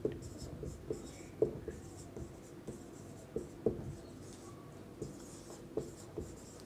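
Writing during a steel design lecture: steady scratching strokes with periodic sharper taps as the pen or chalk lifts and lands, close and continuous at a moderate level, with a faint voice in the background.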